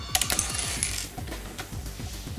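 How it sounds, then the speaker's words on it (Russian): A LEGO Chima battle pack toy shooter clicks and rattles as its trigger mechanism is pressed, a quick series of small plastic ticks close up and fairly quiet. "Наводимся и нажимаем вот этот спусковой механизм, и он стреляет."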